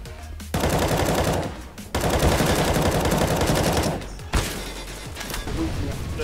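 Rapid bursts of Desert Eagle pistol fire in the video game CS:GO, loud repeated shots in two long volleys separated by brief gaps, with a final shorter burst.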